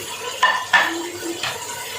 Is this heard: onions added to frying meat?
yes